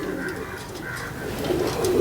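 A pigeon coos close by, low soft calls repeating over a steady background murmur during a pigeon-fancier gathering.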